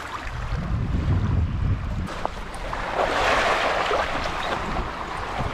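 Ocean waves wash against the red-rock shore at Amherst Shore with the tide in, a broad rushing surge mixed with gusty wind buffeting the microphone, no voices.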